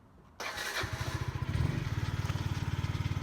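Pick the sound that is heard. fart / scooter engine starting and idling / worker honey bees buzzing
scooter engine starting and idling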